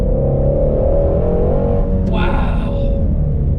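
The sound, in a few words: Ford Shelby GT350R exhaust note while revving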